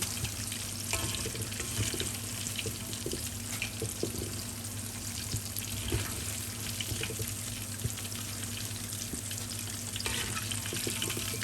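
Chicken tenderloin deep frying in hot oil over high heat, a steady dense crackling sizzle that holds continuously and close throughout, with no voices over it.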